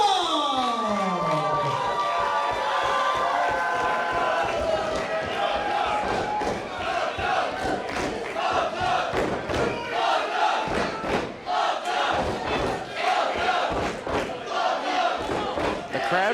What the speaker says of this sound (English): The crowd continuing to remind Love Doug of his name